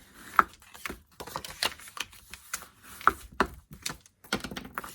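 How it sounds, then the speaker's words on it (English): Card stock is folded along score lines and burnished with a bone folder, heard as a close run of short dry rubbing strokes and light papery taps in a quiet room. "You're going to fold on the score lines and burnish it with your bone folder on both layers."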